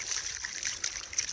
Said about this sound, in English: I'll come over here where I've got a bit more water and pan this out